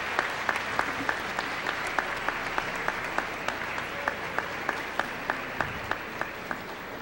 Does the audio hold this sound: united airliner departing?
no